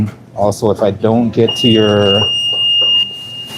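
A kitchen timer in a busy work kitchen lets out a high, steady electronic beep that holds for about a second and a half under and after a person talking nearby.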